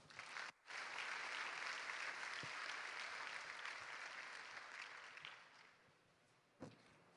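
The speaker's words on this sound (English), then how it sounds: "Let us give them a warm round of applause." An audience applauds warmly at a university senior high school commencement exercise, a dense, sustained clapping in a large hall that fades gradually toward the end.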